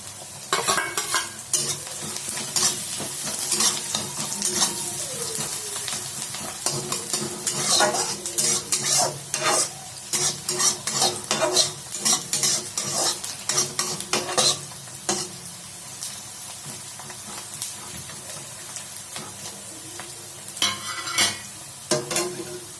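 Onions softening toward light golden brown in a pan give a steady sizzle, broken up by repeated scrapes and clinks of a spoon stirring against the metal, up close with no talking.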